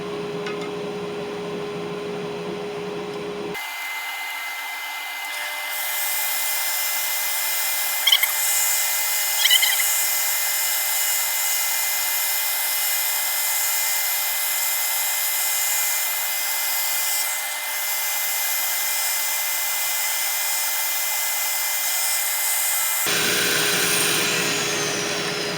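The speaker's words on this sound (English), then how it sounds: "We'll do a little bit of sanding." Sandpaper works steadily over a locust wood yarn bowl, likely on a spinning lathe, giving a continuous broadband rubbing whoosh that holds fairly loud for about twenty seconds with a few brief scrapes, then stops.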